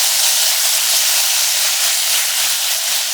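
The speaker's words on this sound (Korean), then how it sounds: "배추김치 넣고 골고루 볶아주세요." Cabbage kimchi sizzles in a spoonful of sesame oil in a pot over medium-low heat, a steady, loud broadband hiss of stir-frying with no pauses.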